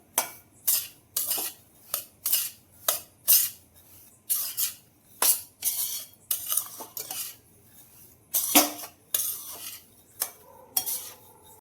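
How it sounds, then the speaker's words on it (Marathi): A metal spoon stirring and scraping sheera with cashew and almond slivers and cardamom in a pan, a steady close rhythm of clinks and scrapes with a faint sizzle underneath, no voices. "छान याला मिक्स करून दोन मिनिट आपण याला छान परतून घेऊया"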